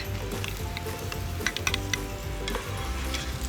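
Garlic and onion sautéing in hot cooking oil, a dense close sizzle with bright crackles and a few utensil clinks from stirring; no voices.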